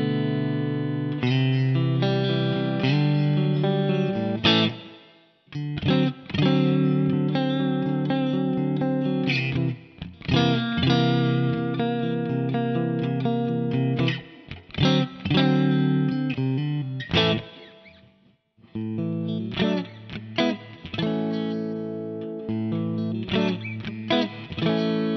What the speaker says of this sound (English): The sounds and tones that you can get out of this guitar are very,